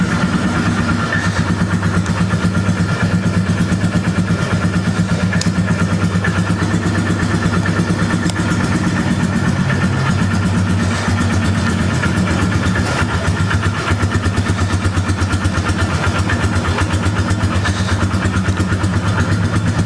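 Polaris 325 Magnum ATV engine idling, a loud, steady, close rumble with an even running beat throughout and no talking.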